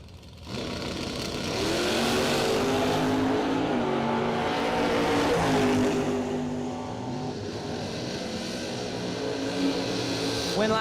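Camaro drag race cars launch side by side down the strip at a spring drag racing event, their engines roaring loud and sustained with rising, shifting pitch as they accelerate away, while an announcer talks over them.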